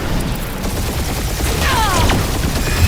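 A sustained barrage of gunfire rattles through Marvel's Guardians of the Galaxy video game. Dense, rapid shots and mechanical clatter fill the space, with a sweeping whoosh partway through.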